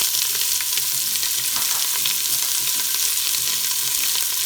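Onions fry in hot oil in a pan for a Mexican meatball soup, a dense, steady crackling sizzle with scattered pops, close and even throughout.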